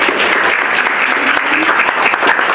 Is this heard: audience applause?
yes